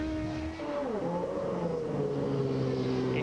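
A Champ Car race car at the 2007 Mont Tremblant Grand Prix, in Paul Tracy's backup car during a pit stop, holding a loud steady engine drone with pitch dips and shifts, close and continuous.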